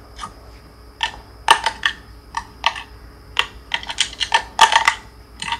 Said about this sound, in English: Hear this boy clicking.